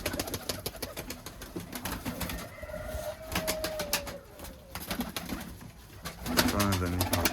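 Iraqi pigeons of an Iranian-type breed coo softly in a loft during winter, low repeated calls mixed with rustling and other bird noise, while someone talks nearby.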